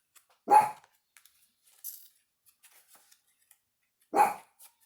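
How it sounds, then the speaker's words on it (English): A dog indoors in an apartment gives two single sharp barks a few seconds apart, fairly close, with quiet room noise between them and no talk. "My dog decided to bark."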